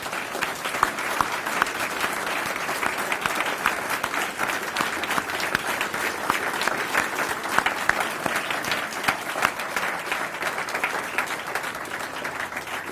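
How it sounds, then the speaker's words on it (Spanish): A large audience applauds at a university ceremony awarding an honorary doctorate for peace to a president, a dense, sustained clapping that stays loud and even for the whole stretch. "Un fuerte aplauso"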